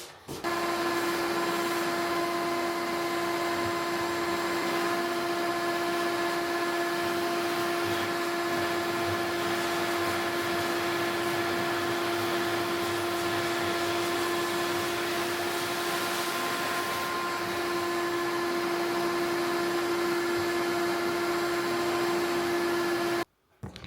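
A power drill boring through a wall surface ahead of a vapor barrier, running as one steady, loud whine with a strong constant tone and a gritty broadband texture for about twenty-three seconds before stopping abruptly.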